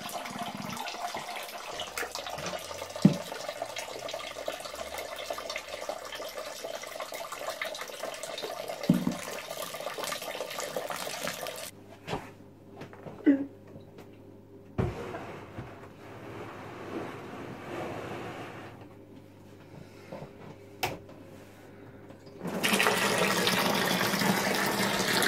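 Water running over the grain bed to rinse out sugars during a home beer brew day, a steady broadband rush and splash that drops and thins midway, then returns full and loud at the end.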